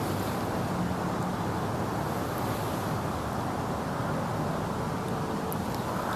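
A steady northeast wind blows outdoors at a Minnesota gun-opener deer hunt, a continuous broad rushing roar with wind buffeting the microphone, with no talking.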